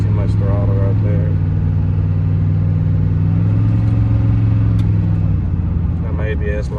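A modified 6.0 engine fitted with an aftermarket cam runs loud and close, holding a steady lumpy idle before revving briefly under light throttle, with someone talking over it throughout.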